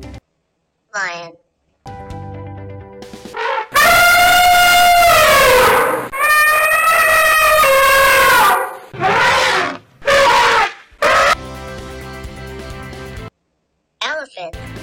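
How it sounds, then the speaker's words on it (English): An elephant trumpets in several loud, brassy blasts of rising and falling pitch, separated by short pauses, with a brief lower call near the end. "Elephant."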